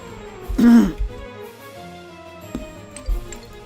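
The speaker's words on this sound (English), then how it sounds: "Sorry about that cough." A single close throat-clearing cough, short and fairly loud, followed by a few faint ticks and small handling noises in a quiet room.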